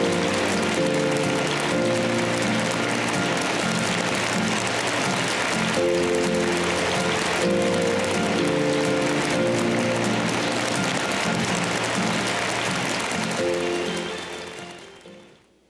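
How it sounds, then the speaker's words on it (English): An audience at a think-tank forum gives a warm round of applause, a dense, steady clatter of clapping that holds for about thirteen seconds before tapering off at the end. "Everyone, please welcome Mr. Nam Kyung-ju with a warm round of"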